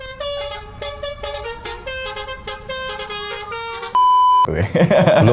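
A Telolet bus horn plays a rapid run of bright musical tooting notes, then holds one long steady tone before a burst of loud, broadband commotion, like cheering, takes over.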